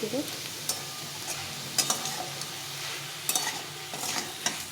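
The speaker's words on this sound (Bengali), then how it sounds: "এইভাবে করে ভালো করে ভেজে ভেজে নিতে হবে অনেকক্ষণ ধরে নিয়ে" Mustard greens frying in a pan, a soft steady sizzle with occasional scraping stirs and light clinks, close and fairly quiet, with no voices.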